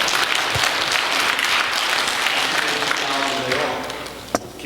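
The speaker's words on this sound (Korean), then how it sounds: "박수도 한번 칩시다." A church congregation at a New Year revival service breaks into steady, full applause that fills the room, fading slightly near the end with a sharp knock.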